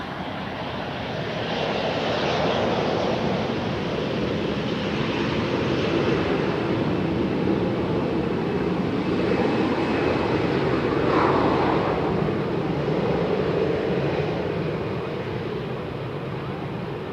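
A KLM airliner on the Polderbaan runway at Amsterdam Schiphol gives off a long, steady engine roar. The sound stays at a fairly even loudness with no voices.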